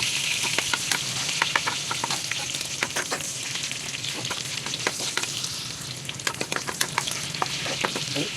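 Garlic frying in a pan as the start of a milkfish (bangus) dish: loud, steady oil sizzle with scattered crackles and pops, close up and continuous throughout, with no talking over it.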